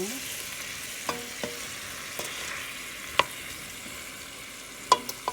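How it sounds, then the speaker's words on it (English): Canned corn and green beans stirred into a pot of chicken vegetable soup made with rotisserie chicken; quiet background hiss with a few sparse spoon clinks and taps against the pot. "I'm going to stir that in."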